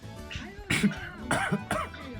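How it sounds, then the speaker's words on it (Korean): A person coughing up close after pepperoncino in a basil pasta catches the throat: about three harsh, raspy coughs in quick succession, with a throaty clearing between them. "기침을 하고 있습니다"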